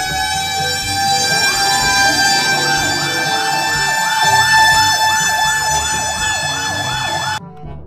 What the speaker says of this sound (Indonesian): wah, ini mobil tangki pemadam kebakaran